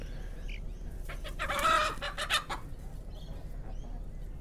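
Chickens cluck close by in a short burst, with a loud squawking cry standing out over faint background noise.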